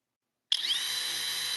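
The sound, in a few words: regular impact driver running, compared with a hydraulic impact driver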